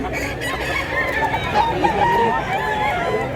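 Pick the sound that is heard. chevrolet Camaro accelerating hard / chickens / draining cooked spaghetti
chickens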